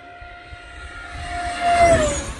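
An E-Flite F-4 Phantom II 80mm EDF RC jet makes a full-throttle, flat and level high-speed pass. Its ducted-fan whine sweeps in, rising to a loud peak near the end with a slight pitch drop as it goes by.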